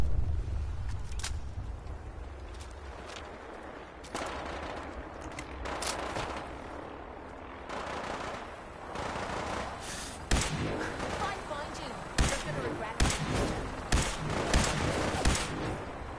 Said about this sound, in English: this thing's strafing is so intense